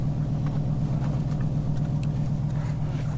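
A 2020 Chevrolet Camaro SS 1LE with the track performance package cruises along, its engine a steady, loud low rumble throughout with no talk over it.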